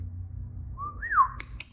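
A person whistles a short sliding tune, a single rising-and-falling phrase imitating a character's whistle from a film, heard alone and fairly quiet, followed by two faint clicks.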